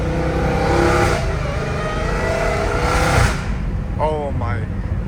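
A Dodge Hellcat Redeye with a titanium catless exhaust drones loudly from inside the cabin at night, its deep engine note swelling and easing under acceleration, with a brief voice near the end.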